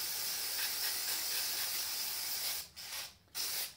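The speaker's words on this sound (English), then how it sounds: "Let's give it another spray down." A continuous hissing spray of aerosol cleaner onto a dirty engine piston from a Peugeot 308 1.2 e-THP PureTech, then two short bursts after brief pauses, close and fairly loud.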